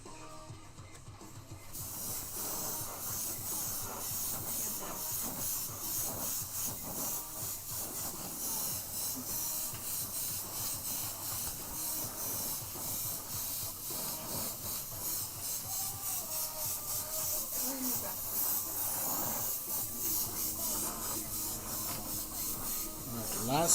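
An airbrush sprays paint onto a 3D-printed Spawn bust, giving a continuous airy hiss with small pulses and shifts, while a person talks intermittently over it.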